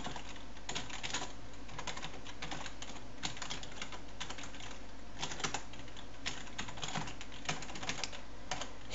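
Fast typing on a computer keyboard, keys clattering steadily with occasional louder strokes, continuous and close, no voices.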